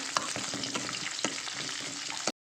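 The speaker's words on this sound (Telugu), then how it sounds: "పోపు ఇంకా మనకు వేగిపోయింది" Dried red chillies and curry leaves crackle in hot oil as a tempering for okra bajji, a steady dense sizzle with scattered pops throughout, close and loud, ending abruptly.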